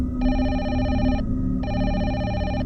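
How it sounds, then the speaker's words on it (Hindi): A telephone rings at a hotel reception desk, two electronic trill bursts separated by a short pause, loud and close above a low background hum. "फिर एक शाम एक बार फिर रिसेप्शन के टेलीकॉम में फ़ोन आता है"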